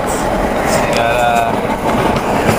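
Overnight sleeper train from Krakow to Prague running on its rails, a steady loud rumble and rattle of the carriage filling the whole stretch, with faint squeaks and voices in the compartment.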